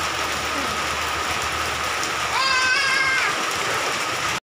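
Steady rain patters and splashes throughout, with a brief higher tonal sound partway through.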